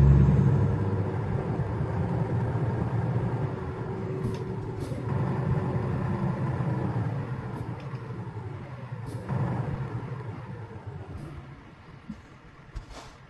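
A truck passes on the road, a low rumbling engine drone that stays steady and fairly loud before easing off, with brief hissing and clunks, heard from inside a vehicle without talking.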